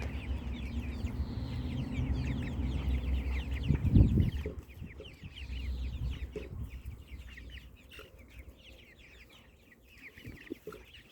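Domestic chickens cluck softly while pecking at grass nearby, in scattered low calls and rustling, one louder flurry partway through.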